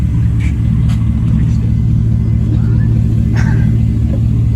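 A Mercedes E420 converted to a manual transmission drives along, its engine giving a loud, steady low rumble heard from inside the car, with faint voices briefly murmuring over it.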